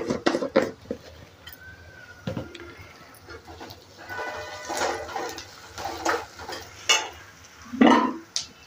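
Onions being sautéed with salt in a pan, heard as soft intermittent stirring scrapes and light sizzling up close, with a few sharper clinks of a utensil against the pan.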